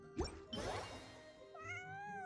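A cat in the Genshin Impact video game gives a couple of short, close meows, followed by a soft, bright chiming tone against quiet game ambience, with no talking.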